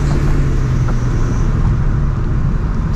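A supercharged 2004 Mustang GT with a slipping belt launches hard, its engine a loud, close, sustained roar with a deep droning tone and no pauses.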